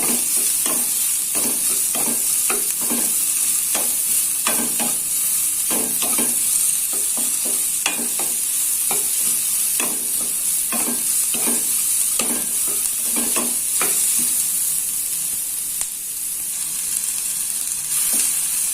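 Garlic, shallots and chili stir-fry in hot oil with a steady close sizzle, while a spatula scrapes and taps the pan in repeated irregular strokes throughout.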